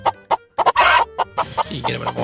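Chicken clucking in a series of short, loud bursts, a few separate calls then a denser run of clucks close by, heard without any talk.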